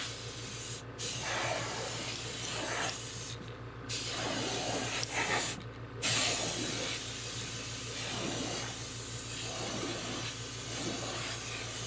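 Airbrush spraying a first coat of candy paint onto a custom fishing lure, a steady close hiss broken by a few brief pauses, over a faint constant compressor hum, with no talking.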